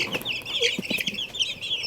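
A Japanese bantam chicken clucks close by in a rapid series of short, bright calls, with soft rustling beneath and no people talking.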